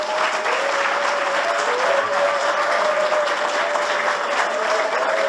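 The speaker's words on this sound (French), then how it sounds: "je demande à toute l'Assemblée autour des officiers ici présents d'acclamer seulement très fort pour la gloire de notre Dieu" Loud, sustained applause and cheering from a large church congregation, dense and continuous throughout with a steady tone ringing underneath.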